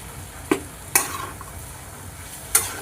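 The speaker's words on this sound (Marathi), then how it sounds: "आता हे सगळं आपण मिश्रण मिक्स करून घेऊया।" Samosa filling sizzles softly in a pan under a steady frying hiss, broken by three sharp scrapes of a spoon against the pan as it is stirred and mixed, close up with no talking.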